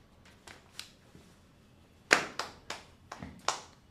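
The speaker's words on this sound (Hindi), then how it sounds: "भाई ताली बजाएंगे यार" Sparse, scattered hand claps, about nine of them, come in a loose uneven rhythm at moderate distance. The later ones are sharper and louder, like a few people clapping half-heartedly on a live stream.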